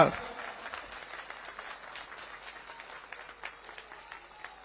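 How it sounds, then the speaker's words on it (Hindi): Crowd applause at a political campaign gathering in Kalkaji, a steady, fairly distant patter of many hands clapping at low level after an initial loud onset. "श्री रमेश विदुड़ी जी के लिए जोर से ताली बजाइए जरा"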